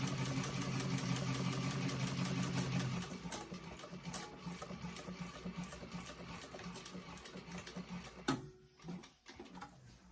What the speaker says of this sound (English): I'm making sure the needle's not going through the cording, it's going right beside it